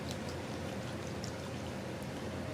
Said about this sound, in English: Pour that apple cider vinegar.